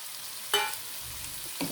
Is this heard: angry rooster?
no